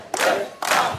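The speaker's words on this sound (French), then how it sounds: "On va donc devoir applaudir." An audience gives two short bursts of cheering and shouting, loud and close, each lasting about half a second.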